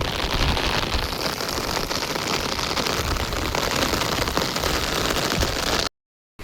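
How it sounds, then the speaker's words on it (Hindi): Rain comes down on a village home, a dense steady patter and hiss that stays close and even for several seconds before cutting off abruptly. "देखो भाई बारिश आ गई"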